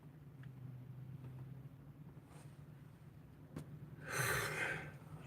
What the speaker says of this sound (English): I can't quit yawning on you guys here.